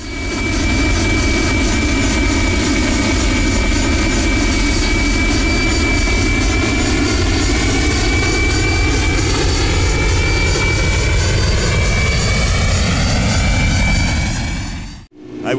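Airbus A319 jet engines at climb power in Microsoft Flight Simulator X, a loud steady roar with rising and falling whine tones that holds for most of the stretch, then cuts off abruptly near the end.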